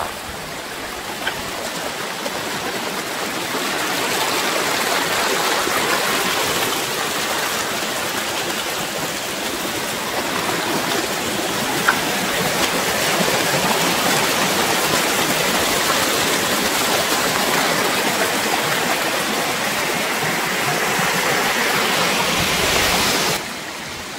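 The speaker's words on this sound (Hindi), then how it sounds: "छोटा मोटा झरना" A small waterfall flows steadily outdoors, a continuous loud rush of falling water that holds level for the whole stretch with no voices over it.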